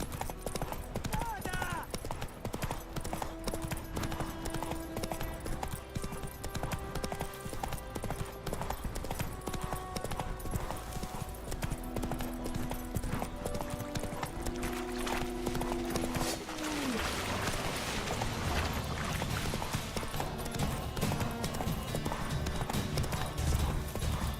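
Horse hooves galloping in The Witcher 3: Wild Hunt, a continuous rapid clip-clop rhythm throughout, with game music and a voice speaking over it.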